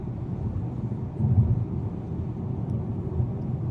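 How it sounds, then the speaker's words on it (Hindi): Heavy traffic rolls along a highway through bare mountains on the road near Tashkent, making a steady low rumble that swells briefly midway as a vehicle passes nearby. "सुनसान जगह में भी देखिए आप हाईवे है ही, और अभी भी रश चल रहा है दबा के"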